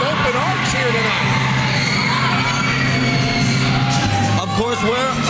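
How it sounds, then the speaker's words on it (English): A sold-out crowd at an Immortal wrestling show in the OESJ High School gym, St. Johnsville, keeps up a loud, steady roar of cheers, whoops and shouts throughout, with voices mixed into the din. "Ruckus crowd on hand"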